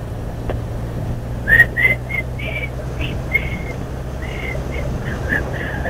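A person whistles a tune as an answer in a guessing game, a string of short, fairly loud notes in a halting rhythm over steady low background hum.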